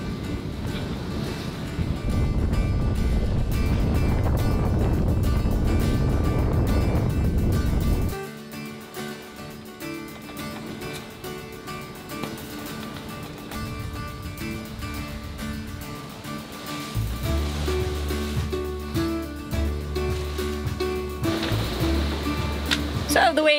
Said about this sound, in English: So the waves have picked up quite significantly more, and so has the wind.